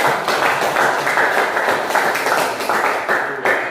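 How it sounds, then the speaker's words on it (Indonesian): Classroom of students clapping together for themselves, a dense, steady wash of applause running throughout at close range. "Tepuk tangan buat kalian."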